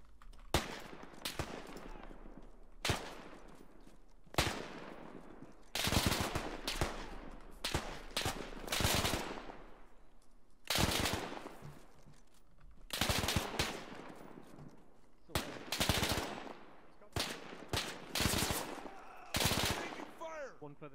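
Gunshots ring out in the WWII shooter Arma 3: Spearhead 1944, with sharp single cracks and short automatic bursts repeating irregularly across twenty seconds, some close and loud, others trailing off with echoing tails.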